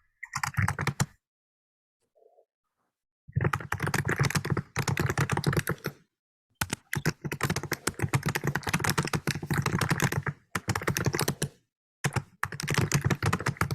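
Someone types rapidly on a computer keyboard during an online meeting, close and clear, with dense bursts of key clacks broken by short silent pauses.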